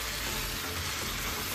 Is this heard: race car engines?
no